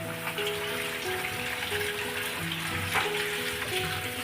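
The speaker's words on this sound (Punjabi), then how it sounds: "ਪਿਆਜ਼ ਜਿਹੜੇ ਆ ਵਾਸ਼ ਕਰ ਲੈਣੇ ਆ ਤੇ ਇਹ ਸਾਡੀਆਂ ਹੈਗੀਆਂ ਮਿਰਚਾਂ ਇਹ ਵੀ ਤੁਸੀਂ ਨਾਲ ਹੀ ਵਾਸ਼ ਕਰ ਲੈਣੀ" Running tap water splashes steadily over onions and green chillies being washed in a sink, a continuous soft gush with faint clinks, no one talking.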